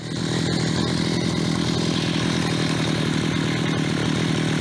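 A gasoline string trimmer, repaired after failing to rev because of a clogged pipe, runs with a steady, loud buzzing two-stroke drone throughout, close by and without talk.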